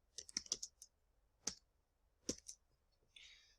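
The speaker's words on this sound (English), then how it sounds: "I'll type it in to Google" Quiet computer keyboard keys click as a search is typed into Google: a quick cluster of taps, then isolated single presses spaced apart, close and faint.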